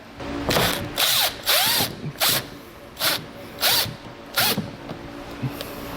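A power drill with an extension bit backs out Torx screws that hold the rear bumper to the quarter panel of a 2016 Volkswagen Jetta, sounding as a series of short, sharp whirring bursts close by.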